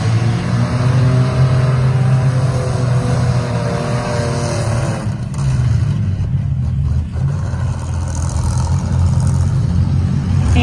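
At a county fair demolition derby, a minivan engine roars loud and close, revving and surging continuously with harsh, throaty acceleration that briefly dips before building again.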